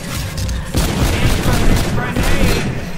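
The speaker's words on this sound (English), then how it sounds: "I'm trying to kill him with my damn rifle!" Rifle gunfire in the Call of Duty Infinite Warfare video game, a dense loud barrage of shots and booms running steadily for three seconds, likely with speech in the mix.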